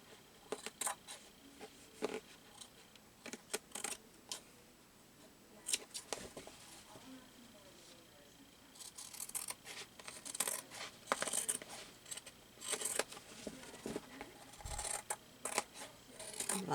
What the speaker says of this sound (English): I'm loving these new fabric scissors.